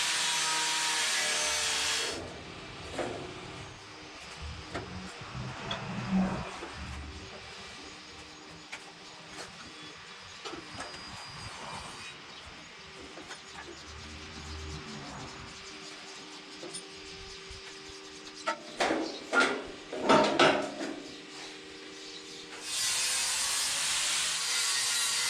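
A metal frame piece being ground down to shape, with loud, harsh grinding bursts at the start and end and quieter clattering shop work between, with no talking.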